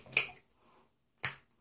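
A shoe-cleaner bottle is popped open, giving two sharp, close clicks about a second apart with a faint rustle between them.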